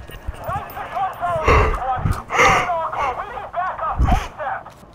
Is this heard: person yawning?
yes